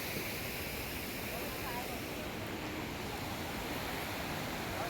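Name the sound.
waterfall along the Amarnath Yatra climb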